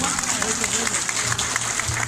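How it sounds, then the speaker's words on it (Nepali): Short burst of crowd applause at a Nepali gathering with a poetry or ghazal program, steady clapping throughout with voices audible underneath. "ताली बजा खोइ ताली।"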